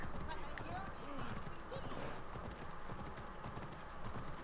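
A horse gallops in Assassin's Creed Odyssey, its hooves drumming in a quick, steady rhythm under a continuous wash of game sound, fairly faint overall.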